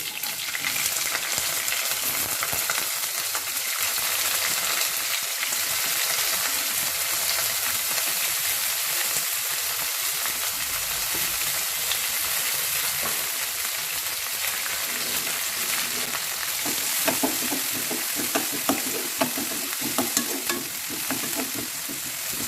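Onion and green chilli frying in a pan for a broad bean and tomato curry, a steady close sizzle with occasional stirring scrapes over twenty-odd seconds and no talk.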